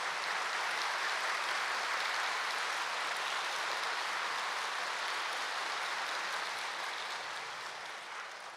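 A large audience claps loudly and steadily at a spiritual gathering, a dense even wash of applause that holds for several seconds and fades slightly at the end.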